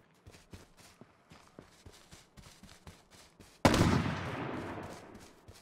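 Gunfire in the survival game H1Z1: Just Survive: a string of rhythmic footsteps, then one loud, close shot that rings out and slowly fades.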